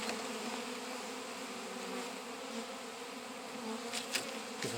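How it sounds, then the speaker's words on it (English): Honeybees hum steadily around an open hive box during spring beekeeping maintenance, a soft, even buzz that is continuous and moderately close, with a few brief louder passes near the end. "this bottom box still had a bunch of bees in it"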